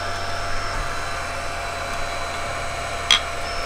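An Atomstack X7 Pro laser engraver runs on a small wooden plaque, giving a steady fan-like whir with a low hum that shifts pitch partway through, plus a brief faint click near the end.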